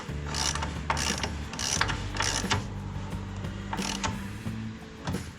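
Socket ratchet clicking rapidly while snugging a bolt on poly bushings for an 85 Dodge Ramcharger build, bursts of ratcheting close up with brief pauses between strokes.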